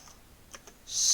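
Fingers tap a computer keyboard while typing Python code, giving a few quick, soft clicks up close before a brighter burst of keystrokes at the end.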